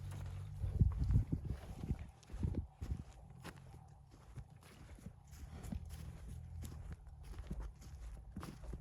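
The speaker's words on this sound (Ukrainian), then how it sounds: "П'ятирічна кобила." Irregular hoof clops on hard ground, a five-year-old mare walking nearby, with heavier thumps early on and a low background hum.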